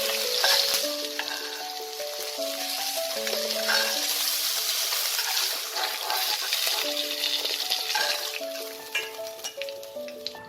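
Bhetki fish head pieces and fish bones fry in hot oil with a steady, dense sizzle that holds for the whole stretch, mixed with background music and a few sharper crackles near the end.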